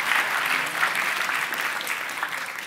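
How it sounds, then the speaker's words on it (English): Audience applause at a physics lecture demonstration: a dense, steady patter of many hands clapping that holds at an even level for the whole stretch, fairly close and with no talking over it. "Can you give Andy a big round of applause for helping me with that demo?"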